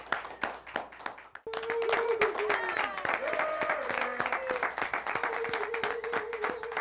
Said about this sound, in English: Big round of applause for Dan Robinson, everybody.